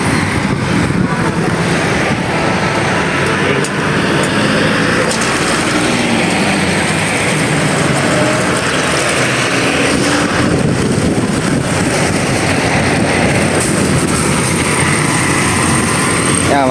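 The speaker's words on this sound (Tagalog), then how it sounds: "gumagana na malakas may timplahan naman dyan mga kadri Lakas hina." A power sprayer engine runs loudly and continuously nearby, a steady dense mechanical drone with no breaks.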